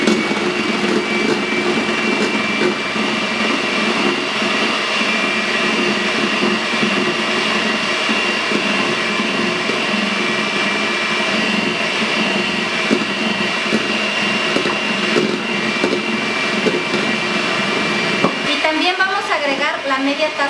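A steady electric hand mixer whirs continuously at close range beating chocolate cake batter with milk, a constant motorized drone with a brief shift in pitch near the end.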